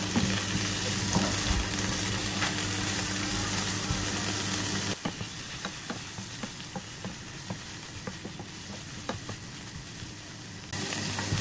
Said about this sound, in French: je peux rajouter les crevettes. Et je vais les laisser revenir, pareil, avec les oignons